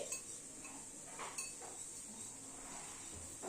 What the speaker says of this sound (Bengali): এবার সব উপকরণগুলোকে মিশিয়ে নিচ্ছি।